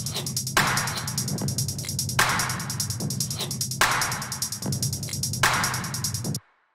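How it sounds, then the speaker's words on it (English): A small percussion drum group loops in an electronic music production with textured synths, a steady repeating pattern whose accented hits return about every 1.6 seconds for four cycles before cutting off abruptly. "the next thing that I have here is this little drum group"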